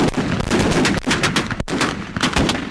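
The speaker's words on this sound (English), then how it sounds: "It's gonna be chaos, a lot of shooting, a lot of noise." Gunshots ring out on an outdoor film set in Mexico, loud, close bursts of rapid fire following one another with short gaps, like a chaotic shootout.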